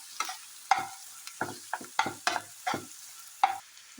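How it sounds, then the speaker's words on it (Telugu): Thinly sliced onions frying in a pan and stirred with a spoon, a series of short scraping stir strokes over a soft sizzle, close and moderately loud, no talk. "ఈ ఉల్లిపాయలు ఇలా గోల్డెన్ బ్రౌన్ కలర్ వచ్చిన తర్వాత వేపుతుండాలి."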